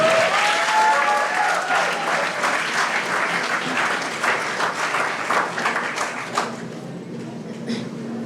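Loud, sustained applause from a festival audience at the close of a short film screening, dense clapping filling the whole stretch and easing slightly toward the end.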